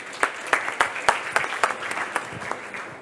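Audience applause following a startup pitch at a health tech event: a small crowd claps with distinct, sharp individual hand claps standing out in a loose rhythm, moderately loud and close.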